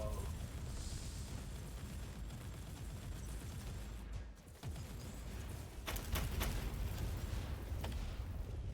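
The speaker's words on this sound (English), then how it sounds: "Don't stand in the big explosion." Loud explosions in a Warhammer 40K video game: dense, continuous blasts and booms fill the whole stretch, with a brief dip midway and sharp bursts near the end.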